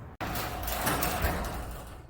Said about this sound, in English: Then we go ahead and shut the door, and we're going to check the travel here.